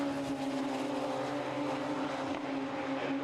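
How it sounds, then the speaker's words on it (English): The multicoloured number 95 Radical race car passing on the Silverstone circuit, a loud sustained engine drone with steady tonal hum, close by and unbroken for the whole few seconds with no voices. "The multicoloured number 95 car of Oscar Joyce goes through"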